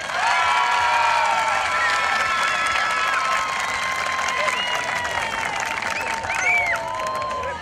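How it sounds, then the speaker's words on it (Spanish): An audience at a Manteña Bonita beauty pageant election in Salango parish applauds and cheers, with dense clapping, whoops and shouts filling the room in one sustained burst that tapers slightly toward the end. "Aplauso para Génesis Salto."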